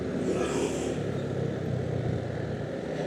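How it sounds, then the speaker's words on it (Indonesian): Sedan cars climbing a steep mountain road produce a continuous engine drone and road rumble, fairly loud and steady, with a slight strain as they labor up the grade. "Kebanyakan sih mobil sedan semua ya yang nanjak di sini ya."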